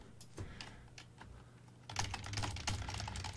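Keys clatter on a computer keyboard close by, with scattered quiet keystrokes at first, then a faster, louder run of rapid typing.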